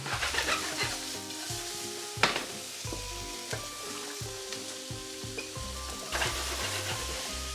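Chopped onions fry in a little oil in a pot for chili con pollo, a steady soft sizzle running throughout with occasional clinks and scrapes from stirring, no talking.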